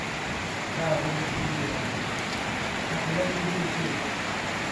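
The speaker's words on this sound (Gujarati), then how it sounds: "વરસાદ ફૂલ ચાલુ થઈ ગયો" Rain falls in a constant broadband wash, fairly loud, with faint indistinct sounds underneath.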